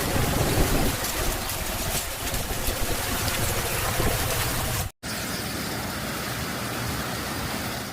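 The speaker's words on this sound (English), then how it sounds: "The rain arrived in sheets, driven sideways by the wind." Heavy rain in a windswept storm on city streets, a steady dense hiss of downpour driven sideways by strong wind, loud and continuous throughout with a brief dropout midway.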